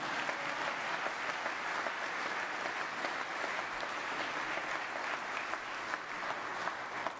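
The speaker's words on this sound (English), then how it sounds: "It's okay to applause now." A crowd at the 2013 Mississippi State of the State address applauds steadily throughout, a dense, even clapping with no pauses.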